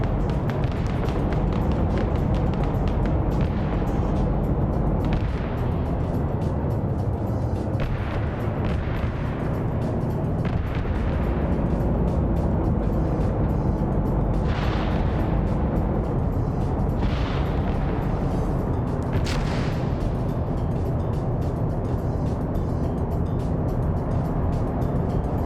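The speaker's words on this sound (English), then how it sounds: "More mortars coming in." Mortar shells land in a PvP war game match, a dense, continuous rumble of battle broken by several sharper blasts spread through the clip, loud and close, with no voices.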